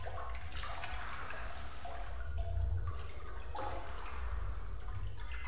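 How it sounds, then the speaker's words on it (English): Footsteps wading and splashing through shallow water in a flooded pool area of a Backrooms video game, continuous sloshing with a low rumble beneath and no talk. "How loud can I splash? Oh, I can't sprint in the water."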